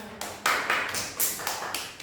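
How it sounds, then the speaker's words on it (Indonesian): Classroom applause for a student comes as a handful of sparse, separate claps, sharp and fairly close, irregularly spaced rather than a full ovation. "Berikan tepuk tangan dulu nih kepada Padma."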